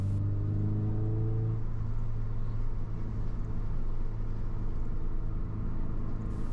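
Toyota GR86 lapping NJMP Lightning race track on a first track day, a loud sustained in-cabin engine drone with rising and falling revs and steady road roar.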